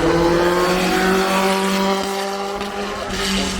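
A Mercedes-Benz 300 SLR race car, a straight-eight machine related to the W196, roars past at a hillclimb event, its engine note loud and close with harmonics sliding downward as it passes and fades slightly.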